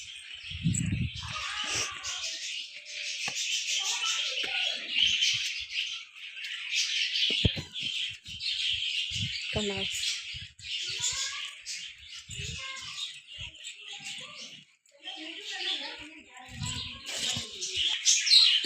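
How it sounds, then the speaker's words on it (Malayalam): Caged birds chirp and tweet in rapid, overlapping bursts, close and fairly loud, with occasional softer cooing notes and brief pauses between flurries of calls. "കുറേ കിളികളുണ്ടായിരുന്നു, പിന്നെ ഇപ്പോൾ കുറച്ചെണ്ണം ഉണ്ട് ഇവിടെ."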